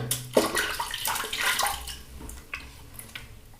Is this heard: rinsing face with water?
yes